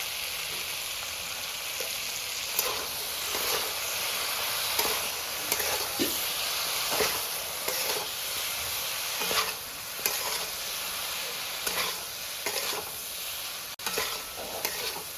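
Cumin, mustard, poppy seed and chili paste frying in a pan for a Bengali morola fish and ladyfinger curry, a steady loud sizzle with repeated soft scraping stirs throughout.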